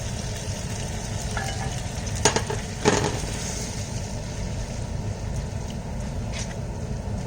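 Pink pad thai noodles, coloured with yen ta fo sauce, are stir-fried in a pan, giving a steady sizzle with a few louder scraping and tossing strokes near the middle.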